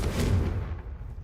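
A Confringo fire spell goes off in Hogwarts Legacy, a short, dense low-end blast with a crackling rumble that starts loud and tails off over about a second, with no voices.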